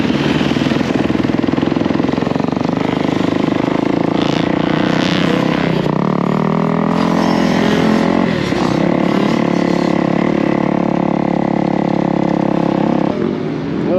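A kid rides a small Yamaha PW dirt bike on a kids' motocross track at Rio Bravo MX in Houston, Texas. The buzzy little engine revs up and down continuously, near and fairly loud, with no voices.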